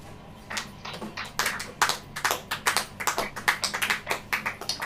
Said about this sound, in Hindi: अब ताली बजाइए।